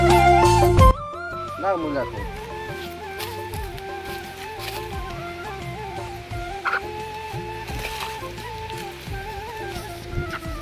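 A chicken squawks and clucks over music, with excited shouting voices mixed throughout.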